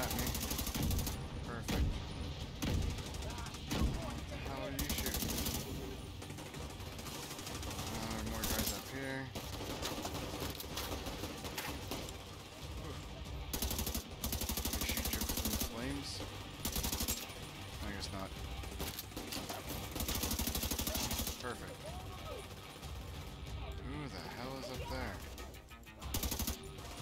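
Rapid, dense gunfire crackles in The Division 2, continuous volleys of shots in a busy firefight heard fairly quietly, with a player talking over it.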